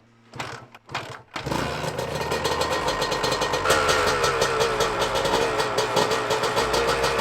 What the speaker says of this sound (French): je pense que la moto, je la laisse tourner comme ça au ralenti